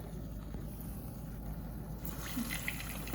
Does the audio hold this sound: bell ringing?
no